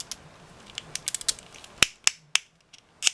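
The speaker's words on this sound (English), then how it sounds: "The nice ratcheting joints." Ratcheting plastic joints of a Play Arts Kai DC Variant Wonder Woman action figure click sharply up close, in a quick irregular run of small ticks followed by several louder, spaced snaps, with no talking.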